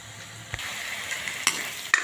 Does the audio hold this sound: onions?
yes